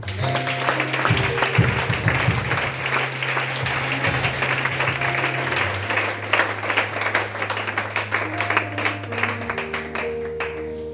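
A church congregation claps in sustained applause to acclaim the Lord, a dense, steady wash of many hands filling the room, with sustained musical tones running underneath throughout.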